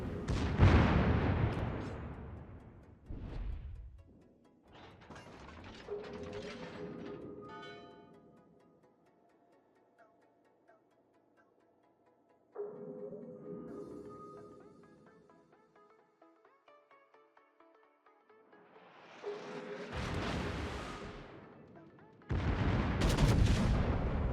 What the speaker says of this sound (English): That feels like a wasted salvo.